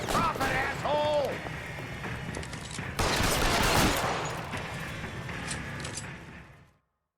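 Gunfire in the L.A. Noire crime game rings out as a burst of sharp, loud shots, with a voice talking early on, before the noise trails off to silence.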